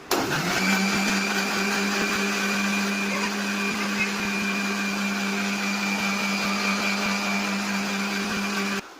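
An electric blender whirs steadily while making guava juice, a loud continuous motor drone that starts abruptly, holds an even pitch for several seconds and cuts off at the end, with no talking.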